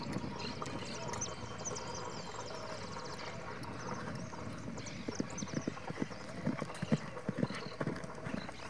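A black-headed moro horse's hooves clop along at a steady walking pace, growing slightly more distinct toward the end, over a constant low rumble.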